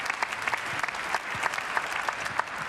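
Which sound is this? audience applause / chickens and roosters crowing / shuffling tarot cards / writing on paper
audience applause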